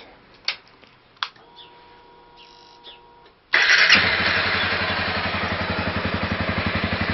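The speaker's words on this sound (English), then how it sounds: "So I started up with the stock exhaust" A Honda CRF250L motorcycle with its stock exhaust cranks and fires up after a few faint clicks, then settles into a loud, steady, throbbing idle close by.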